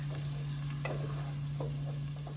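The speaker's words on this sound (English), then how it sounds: "So I'm going to saute these onions until they're, semi-translucent, soft." Onions sauteing in bacon grease for a potato and bacon soup give off a steady, close sizzle, with a few light stirring scrapes and a constant low hum underneath.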